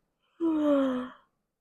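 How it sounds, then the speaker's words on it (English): A voice performs a yawn for a sleepy young character in a children's story: one drawn-out, breathy, voiced exhale lasting under a second, close and clear. "covering a yawn"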